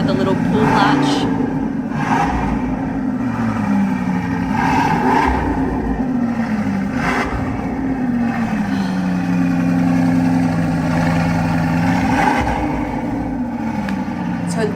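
A Bugatti engine rumbles low and loud close by, its pitch swelling and easing in slow revs across about fifteen seconds, with faint voices over it.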